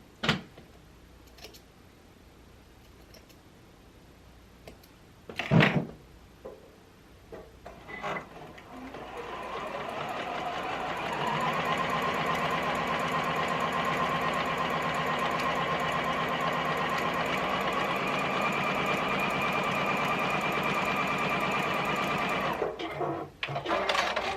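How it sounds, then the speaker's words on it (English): A sewing machine stitches a pillowcase seam with fabric right sides together, running as a long steady hum for about thirteen seconds after a few brief handling knocks and a short start, then stopping near the end. "I sewed my right sides together"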